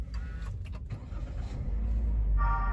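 A Toyota Avanza G CVT starts from inside the cabin: a few clicks and brief starter sounds, then the engine catches and settles into a steady low idle that grows fuller toward the end.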